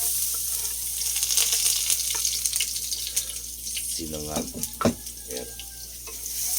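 Garlic sizzles in a pan for sinangag fried rice made from leftover rice, a steady crackle running throughout with a clatter of utensils near the end, while someone talks briefly.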